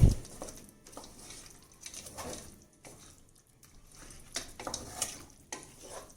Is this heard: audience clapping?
no